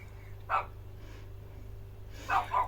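A dog barks in short bursts: one bark early, then a quick double bark near the end, over a steady low hum.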